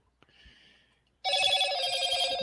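A phone rings loud and close in a podcast studio, its continuous electronic trill bursting in after a moment of faint background sound.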